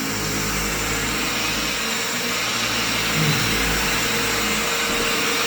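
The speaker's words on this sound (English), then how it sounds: "when you're coming with the big vacuum" A large vacuum cleaner runs on carpet during end-of-tenancy cleaning, giving a loud, steady close-up roar with a broad hiss that barely changes for the whole stretch, no voices.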